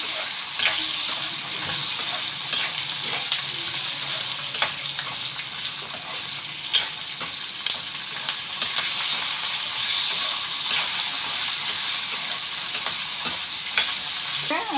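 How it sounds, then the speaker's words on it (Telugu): Coriander seeds and spices dry-roasting in a pan for a raw mango pickle, a continuous crackling sizzle with frequent clicks of a spoon stirring, close and steady throughout. "ధనియాలు 1 స్పూన్ వేసారు ధనియాలు. ఇవన్నీ కూడా వేగాలండి బాగా."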